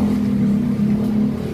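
A Kawasaki Versys 650 motorcycle engine starts and settles into a steady, close idle with a low, even drone throughout.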